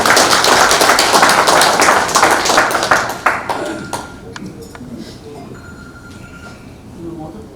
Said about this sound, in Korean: 한 박수 부탁드립니다.